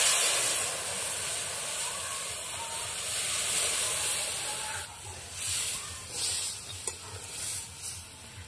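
Boiled mung dal hits a hot tempering in a pan and sets off a loud, steady sizzle and hiss that eases slightly, with soft stirring scrapes toward the end.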